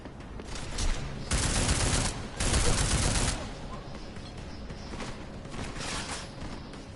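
Sustained bursts of gunfire in the video game Deus Ex, loud and dense in two heavy volleys, then lighter scattered shots continuing underneath.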